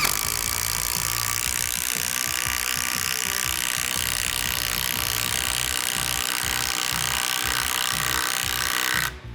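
A power tool drives a 4-inch lag screw into wood with a socket head, giving a loud, steady grinding and ratcheting whir that runs for about nine seconds and then stops abruptly.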